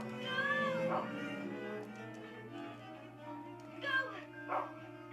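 Brown, the dog in the video game Rule of Rose, gives a few short barks and yips, spaced apart and fairly quiet, under a low game soundscape with brief talking.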